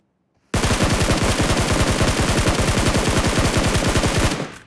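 Long burst of rapid automatic rifle fire in a video game, a single sustained spray of evenly spaced loud shots lasting about four seconds and cutting off abruptly, with no talking.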